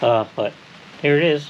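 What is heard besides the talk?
No everyday noises stand out.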